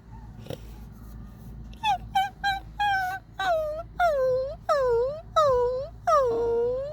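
A small puppy whimpers in a run of rising and falling whines, each cry longer and louder than the one before, close by over low background hum.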